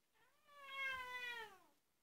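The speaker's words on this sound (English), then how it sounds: "there's just my cat moaning because she really wants to" Female cat in season meowing indoors, one long drawn-out moaning yowl that rises and then slowly fades, fairly faint and heard alone without talk.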